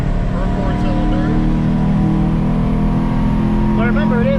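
A budget car running a Nissan 240SX four-cylinder engine hums steadily while driving, a continuous close engine drone beneath people talking.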